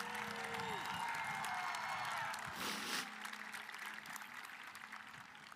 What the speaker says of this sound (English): I want you to give a huge round of applause today to all those people who made this day possible for you.